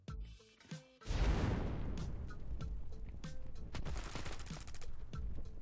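In the video game Standoff 2, a rapid burst of loud, sustained gunfire erupts after a couple of quieter shots, continuing as a dense automatic volley with sharp individual cracks.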